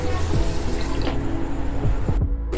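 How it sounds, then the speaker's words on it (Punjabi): Water pours into a pressure cooker holding washed dal, a steady close splashing stream with small gurgles that cuts off abruptly near the end. "ਹੁਣ ਅਸੀਂ ਪਾਵਾਂਗੇ ਜੀ ਇਹਦੇ ਵਿੱਚ ਪਾਣੀ"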